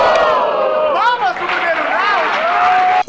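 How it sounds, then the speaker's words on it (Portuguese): Loud crowd cheering and shouting for the first-place winner at a beat-making contest, voices rising and falling in excited whoops with scattered clapping underneath, ending abruptly. "Palmas pro primeiro lugar."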